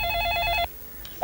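A telephone rings in a short, fast-pulsing electronic trill that stops abruptly after about half a second, followed by near silence and a faint click.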